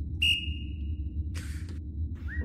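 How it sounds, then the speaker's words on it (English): A sharp, high whistle in a VR horror game sounds once and slowly fades, followed by a brief noisy burst and a shorter rising whistle near the end, all over a low background hum. "hearing whistle in the background"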